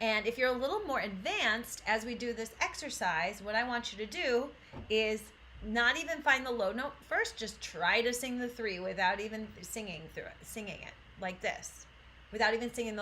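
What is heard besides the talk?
None of the usual background noises is heard.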